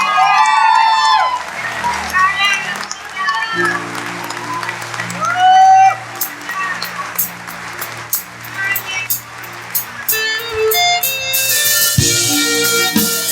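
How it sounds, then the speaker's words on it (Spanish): Applause from a church congregation at a Sunday service, clapping and scattered cheers mixed with voices, shouting and sustained musical tones, with a loud burst of crowd noise near the end. "Denle un aplauso a Dios y que Él reciba gloria."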